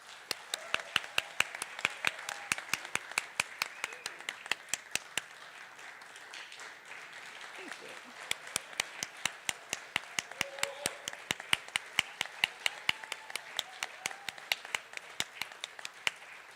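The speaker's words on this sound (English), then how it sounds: "Please give them a round of applause." At a military signing ceremony, a small audience claps for seniors who have committed to the Armed Forces. Sharp individual claps come in a sparse, irregular rhythm, thin out into a lull partway through, then pick up again.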